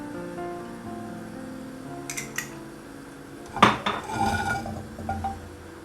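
A knife cuts chicken into thin pieces on a board for a barbecue chicken sandwich, with a few sharp knocks and clinks of utensils against a quiet background.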